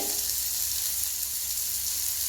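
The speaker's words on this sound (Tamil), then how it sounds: "ஆனியன் நல்லா கொஞ்சம் வந்துட்டு ரொம்ப வதங்கக்கூடாது ஒரு ஒரு கால் வாசி வதங்கினா குக்கானா போதுமானது" Onions sauté in a pan for a tapioca adai dish, giving off a steady, dense sizzle that stays loud and close throughout with no talk over it.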